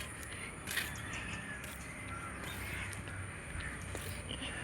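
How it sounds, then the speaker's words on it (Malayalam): Many crows cawing from coconut palms near a house rooftop, harsh repeated calls at a moderate distance over steady background noise, with no talking. "ആഹാ കാക്ക നിറച്ച് തെങ്ങാല് മൊത്തം"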